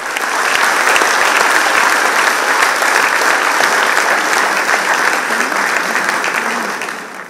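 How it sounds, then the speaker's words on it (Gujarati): Loud, dense applause from a large audience fills the hall at a Gujarati literary speech event, sustained evenly for about seven seconds before tapering slightly at the end. "જોરદાર તાળીઓના સંગાથે"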